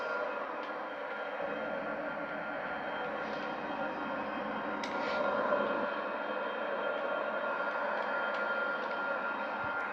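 Steady jet engine roar from a Boeing 787-9 in Microsoft Flight Simulator, a constant broadband drone holding at even loudness with no talk.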